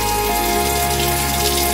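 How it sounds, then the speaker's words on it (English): Water runs from a bathroom sink tap, a loud, steady rushing splash that carries on without a break for under two seconds. "I'll run my water."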